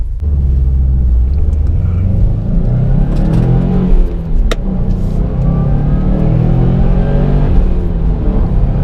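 A 2018 Subaru WRX STI engine drones loudly and continuously from inside the car as it accelerates, its pitch rising and falling through the gears over steady road rumble.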